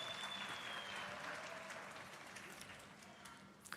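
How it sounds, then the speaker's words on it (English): Applause from a graduation ceremony crowd at a college spring graduation, steady and fairly faint as if heard from a distance, slowly fading toward the end. "may I ask you to hold your applause until we have finished with the group that we are busy with"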